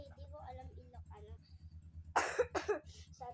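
A woman coughs two or three times in quick, harsh bursts close to the microphone, following a stretch of talk over a low rhythmic background hum.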